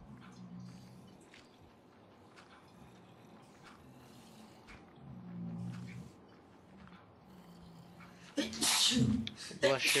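A person sneezes loudly and sharply near the end, set apart from the quieter speech and game sounds before it.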